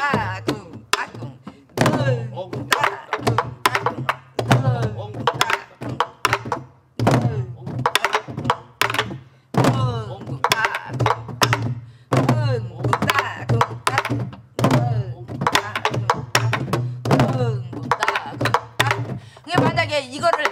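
Korean sori-buk drum strokes beat out a pansori rhythm, sharp thumping hits in quick repeating groups, close and loud, with someone speaking between and over the strokes.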